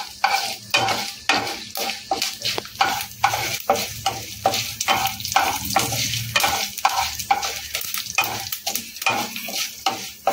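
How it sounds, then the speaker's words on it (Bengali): Dal and tempering spices frying in a pan for lemon rice, a steady sizzle broken by repeated scraping stirs of a spoon against the metal, close and clear with no talking. "আর একটু ভাজবো, ডালটা একটু ভাজা ভাজা হবে।"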